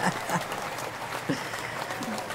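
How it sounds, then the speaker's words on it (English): Studio audience applauds with scattered, moderately close clapping that carries on for a couple of seconds, with a voice faintly present underneath. "The applause. There we go."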